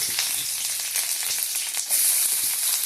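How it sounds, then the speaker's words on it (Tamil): Chana dal, cinnamon, cloves, curry leaves and dried chillies fry in hot oil with mustard seeds, giving a steady, loud sizzle with scattered crackles and pops throughout. "அடுத்தது கடலைப்பருப்பு போட்டு பட்டை, லவங்கம், கருவேப்பிலை, காஞ்ச மிளகாயும் போட்டு"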